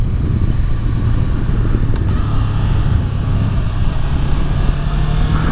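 A 2018 Honda CB500X motorcycle engine while riding, a steady loud drone with a constant low hum and wind rush, heard close and alone with no talk.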